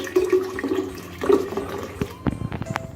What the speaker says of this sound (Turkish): Dökelim bunu.